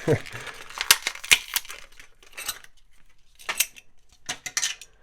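Hanayama puzzle packaging being opened, with irregular crinkling, tearing and light plastic clicks in short bursts close by, with brief pauses between them.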